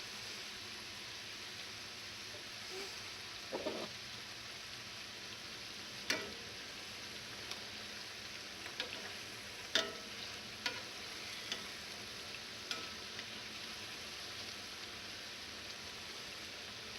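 Churros fry in a pan of oil with a faint, steady sizzle, close but quiet, broken by a few sharp ticks and light clinks as they are turned.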